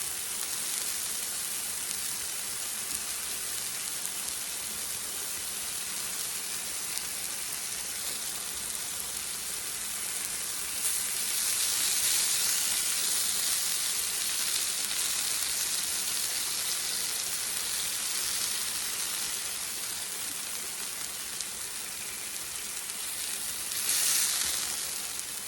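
A sweet potato coated in Sweet Baby Ray's sauce sizzles and fries in a pan, giving a steady, crackling hiss that swells briefly in places.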